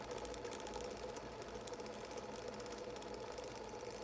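An electric motor/generator built for an electric car spins toward about 4500 RPM, giving a continuous buzzing mechanical whine with light rattling, steady and fairly close throughout.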